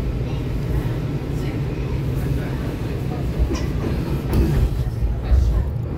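A DC Metro Kawasaki 7000-series eight-car Blue Line train rides between King Street and National Airport. A steady, loud rumble of wheels and motors fills the car, with faint clicks and squeaks over the track.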